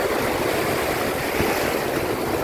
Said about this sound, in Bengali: বুঝতে পারছো কিরম ঢেউগুলো আসছে?